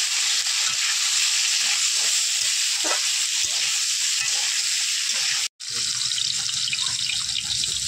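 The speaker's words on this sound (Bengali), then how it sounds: "পরিমাণ মতো হলুদ দিয়ে ভালো করে ভেজে নেব" Potatoes seasoned with salt and turmeric fry in a pan with a loud, steady sizzle, broken by a brief pause, then stirring over continued crackling.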